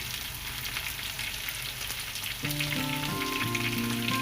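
Boneless chicken sizzles steadily in a pan for Thattukada-style frying, with a constant close crackle and a few scraping turns partway through; a sustained tonal hum enters in the second half.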